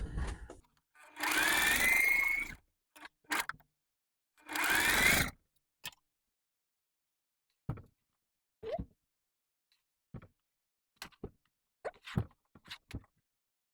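Sewing machine stitching quilt block pieces in two bursts of rapid whirring, each about one to two seconds, followed by scattered soft clicks and handling taps, close and without talk.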